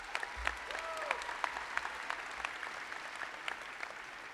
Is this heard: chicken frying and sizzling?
no